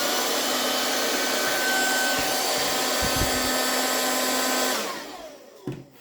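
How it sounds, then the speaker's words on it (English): A portable vacuum cleaner powered through a cigarette-lighter adapter from a UMAP 12000 B2 portable jump starter runs with a loud, steady whine close by, with a few bumps before it switches off and winds down near the end. "Or you can connect a portable vacuum cleaner."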